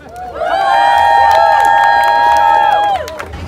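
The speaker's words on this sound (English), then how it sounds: "Give yourselves a round of applause." A large crowd at a community housing rally in New Orleans cheers and whoops loudly with applause, a sustained roar that holds steady for a few seconds before fading.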